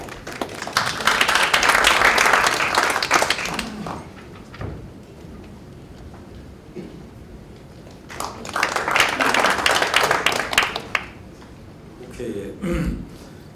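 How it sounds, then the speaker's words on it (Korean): Audience applause at a public debate forum on broadcast fairness, two bursts of dense clapping in a hall, the first lasting several seconds and the second after a quieter pause with murmuring, moderately loud. "여러분 박수 부탁드리겠습니다."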